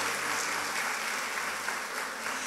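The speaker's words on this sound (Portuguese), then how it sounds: "se vai aplaudir, aplaude forte a Jesus." Church congregation applauds during a sermon, a continuous wash of many hands clapping at moderate volume, steady throughout without any speech.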